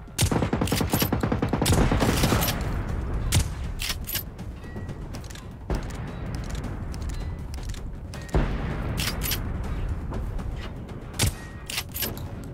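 Rapid gunfire in Generation Zero as players shoot at machines: dense, loud bursts of automatic shots, some sharp single cracks, and metallic clanks and creaks from the machines being hit.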